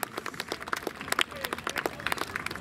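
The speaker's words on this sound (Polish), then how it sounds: "Przywitajcie po raz ostatni wielkimi brawami." Audience applause at an outdoor strongman competition in Augustów, Poland, a fairly faint, continuous patter of clapping with scattered cheers from a crowd as an athlete is introduced.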